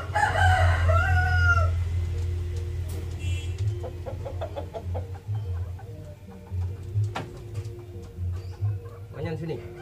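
A rooster crows loudly at the start, then fades into softer clucking and background sounds with people talking nearby.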